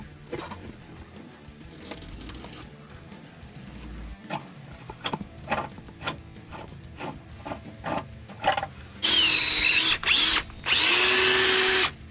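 Harbor Freight power tool setting a rivnut while fender liners are fitted to a custom vehicle: scattered clanks and taps, then two loud, sustained high-pitched whirring bursts near the end, with no talking.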